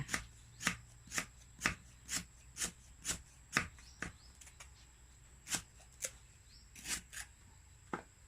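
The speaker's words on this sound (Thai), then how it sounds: "หั่นตะไคร้ก่อนด้วยจ้า" A knife chops lemongrass for a crab curry with pickled bamboo shoots, sounding as a series of crisp, evenly spaced chops, about fourteen in a row, close and distinct over a quiet background.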